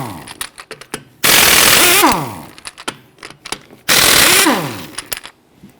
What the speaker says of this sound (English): Using an 18mm socket, loosen and remove the lug studs.